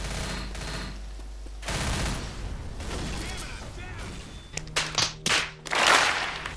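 Left 4 Dead gunfire crackles in rapid bursts, growing louder and denser toward the end, with voices talking underneath.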